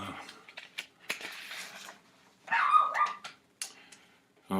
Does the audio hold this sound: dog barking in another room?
yes